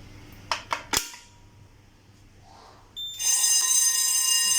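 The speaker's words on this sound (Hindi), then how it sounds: "इसको हम लोग ऐसे प्रेस करेंगे तो ये फायर अलार्म आना शुरू हो जाएगा" A manual call point is pressed with three sharp clicks, then after a short pause a fire alarm system starts sounding a loud, steady, piercing electronic tone close by.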